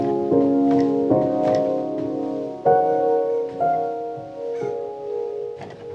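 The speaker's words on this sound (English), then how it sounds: "it just sounds like this old, eerie kind of piano situation." An old, eerie piano patch played on an Ableton Push 3 with Eurorack modular gear sounds out as sustained, slightly warbly chords, struck anew every second or so, loud and resonant with no voices.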